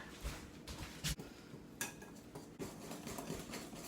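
Chocolate cake batter stirred by hand in a bowl, with a utensil scraping and clinking against the sides in an uneven rhythm, close by and fairly quiet.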